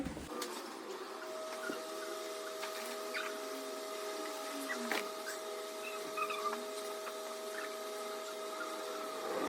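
A washing machine in an unstaffed self-service laundromat in Korea runs with a load of sheets and a duvet, giving a steady close mechanical hum with faint whirring tones and small clicks and knocks, no voices.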